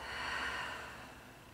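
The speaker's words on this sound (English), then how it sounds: "Deep breath." A single deep breath taken while resting face down during a pilates back exercise, a close, steady airy exhale swelling then slowly easing off, heard alone.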